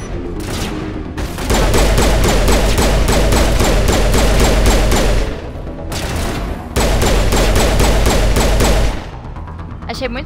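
Long bursts of rapid automatic gunfire in the video game Mass Effect Legendary Edition rattle loudly, broken by short pauses, with a voice heard faintly in between.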